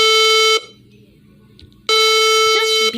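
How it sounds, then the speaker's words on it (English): Emergency Alert System alarm: loud, harsh electronic tones blare for about half a second, cut to near silence, then return loud and steady, with no talk. "here we go with the beeps again"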